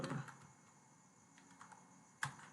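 Quiet, rapid keystrokes on a computer keyboard come from someone writing text while laying out a church flyer, ending with one sharper key press.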